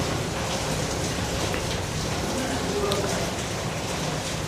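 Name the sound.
rain falling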